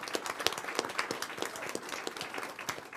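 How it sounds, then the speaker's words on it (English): Applause at a school board meeting for the girls wrestling team: a small group clapping with distinct, uneven hand claps, moderately close and sustained for a few seconds with no talk. "How about a round of applause for that?"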